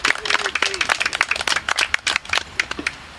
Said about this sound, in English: just ask everybody to give everybody a round of applause